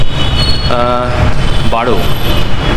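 A Kolkata metro train moves through the station with a loud, close rumble. Wheels give a couple of brief, sharp squeals over the steady roar, and people talk faintly nearby.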